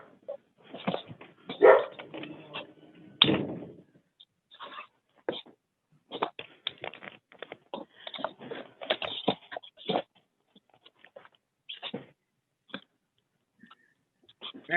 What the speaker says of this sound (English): Somebody's got a puppy.